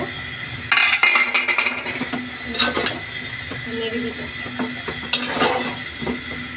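A spoon stirs red lentils and greens in a cooking pot, giving scraping and clinking against the pot in a few bursts, with some talking over the stirring.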